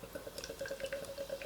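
Dead Centre Marooned oatmeal IPA beer being poured, a soft continuous trickle with bubbly, dripping splashes, close and fairly quiet, with no talking.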